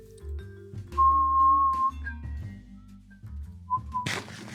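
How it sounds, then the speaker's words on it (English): A thin, steady whistling tone running for about a second inside a room, heard over a low, droning hum, followed later by a brief second whistle and a burst of hiss. "I've no clue if that whistling is going to pick up."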